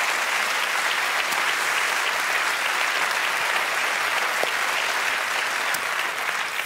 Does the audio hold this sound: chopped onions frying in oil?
no